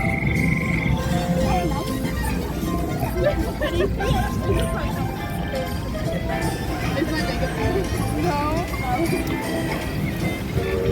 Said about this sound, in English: There's some froggies.